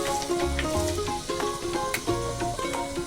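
A quarter spoon of fenugreek seeds crackles and sizzles in hot oil, a steady close frying hiss with occasional sharp pops and faint stirring clinks.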